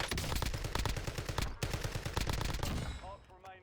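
Rapid bursts of gunfire from the Cypher in Call of Duty: Warzone crack close and loud in dense, rhythmic volleys with a short break, then fade at the end.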